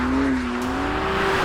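BMW M2 CS engine pulling hard under acceleration, a loud steady tone rising slightly in pitch over a dense roar, close and alone without talk.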